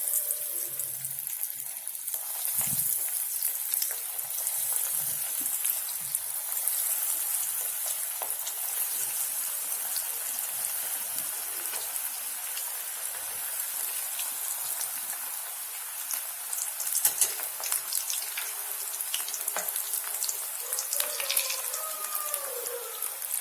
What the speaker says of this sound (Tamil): இதை இப்போ எண்ணெயில் போட்டு பொரிச்சு எடுத்துக்கலாம்